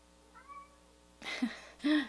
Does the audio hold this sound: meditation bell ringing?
no